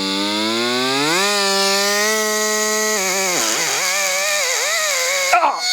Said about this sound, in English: I just find that the burr works really quickly. But this will just take that shit right out of there.